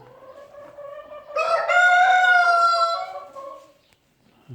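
A rooster crows loudly and close by in a farmyard, one long harmonic call held for about two seconds, with soft clucking from the hens before and after.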